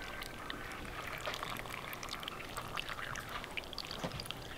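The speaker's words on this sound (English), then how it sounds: "you just take it and you pour it right in like that." Water is poured over cucumbers in a jar for preserving, a soft continuous trickle and splash close by, quiet and without any talk.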